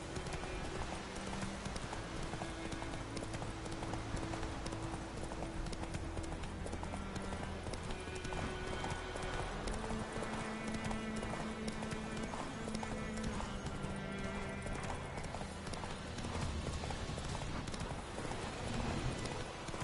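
Roach the horse's hooves clip-clop through The Witcher 3, partly buried under a dense bed of game music and ambience that runs steadily throughout.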